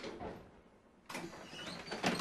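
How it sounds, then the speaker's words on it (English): A streetcar door opens with a sudden broadband mechanical rush about halfway through, following a quieter stretch of low cabin hum, then sustains with rattling until the end; no talking. "I open the door and I say welcome on board."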